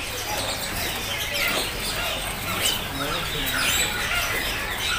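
Caged songbirds at a bird market kiosk chirp and twitter in quick overlapping calls, fairly close, under continuous background chatter and someone speaking.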